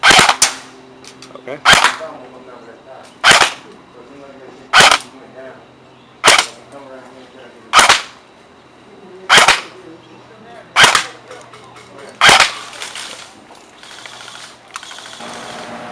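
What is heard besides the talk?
Redfire HK M4A1 airsoft rifle shooting 0.25 gram BBs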